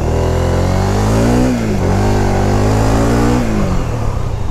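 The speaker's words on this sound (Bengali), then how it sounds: "এই বাইকের একটা ফ্রেশ সাউন্ড, স্মুথ সাউন্ড থাকতে হবে।" A Honda CBR 150R motorcycle engine revved with the throttle, loud and close, rising and falling in pitch through two quick throttle pulls over a steady idle, with no talk.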